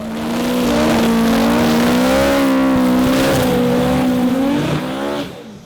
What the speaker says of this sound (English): they're an awesome sounding engine